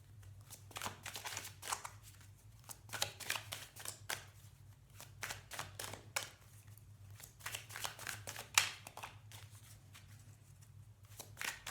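Playing cards being shuffled during a tarot-style card reading, a steady run of crisp riffling and flicking bursts lasting several seconds over a constant low hum, with no talking.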